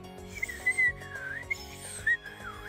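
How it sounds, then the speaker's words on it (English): A video game character whistles a wavering, slightly off-key tune over game background music, with several rising and falling phrases and no talk. "That is a bad whistle"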